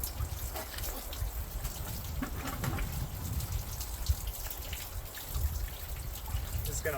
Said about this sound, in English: Alright, so the water's flowing now.